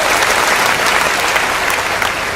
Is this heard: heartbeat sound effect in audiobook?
no